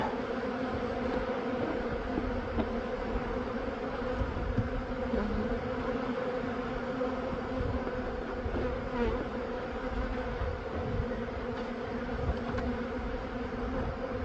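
A dense, steady drone of many honeybees buzzing together at the hive, continuous and close, with no talking.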